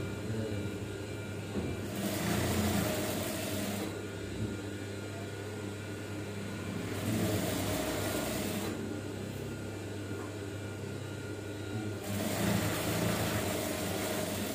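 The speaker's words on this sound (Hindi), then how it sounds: "ये अभी नीचे सिलाई लग रही है।" A sewing machine stitches trouser fabric in steady running bursts of about two seconds each, separated by quieter pauses, with a continuous motor hum underneath throughout.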